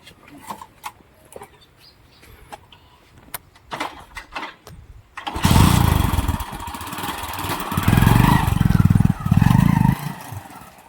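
A motorcycle engine starts abruptly after a quiet stretch of shuffling and small knocks. It then runs loud and close, with several rising revs as the bike rides off.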